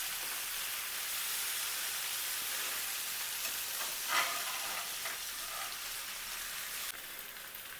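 Paneer cubes sautéing in oil for restaurant-style paneer tikka masala, a steady close sizzle and crackle running throughout with a few soft stirring scrapes.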